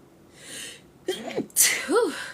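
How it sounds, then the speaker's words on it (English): A soft breathy build-up followed by a sharp, close sneeze, with brief vocal sounds around it. "I feel like I had to sneeze again."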